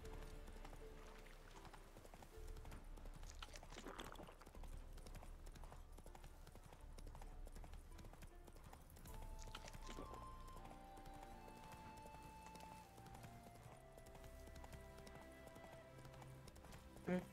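Roach the horse gallops in The Witcher 3: Hearts of Stone, a quiet, continuous rhythmic clip-clop of hooves running beneath soft game music.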